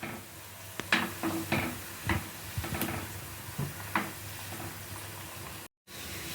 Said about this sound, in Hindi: इसे इस तरीके से हिलाते हुए फ्राई कर लीजिए।